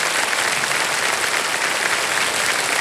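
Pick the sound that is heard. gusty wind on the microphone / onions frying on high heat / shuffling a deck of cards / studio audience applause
studio audience applause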